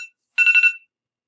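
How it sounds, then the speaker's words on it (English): A short electronic alarm tone goes off nearby, a brief chirp then a rapid warbling trill of four or five quick pulses, clear and alone in silence. "sorry about that alarm"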